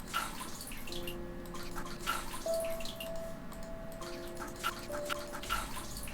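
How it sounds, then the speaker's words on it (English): Water drips in a bathroom in the Homesick video game, with faint irregular plinks over a low ambient hum and soft sustained tones, quiet and without talk. "I can hear something. Dripping water."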